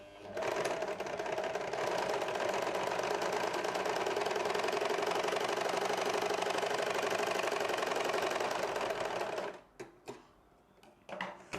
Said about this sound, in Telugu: ఈ ఎడ్జెస్ ఉన్న వైపున ఓవర్లాక్ చేసుకున్నాము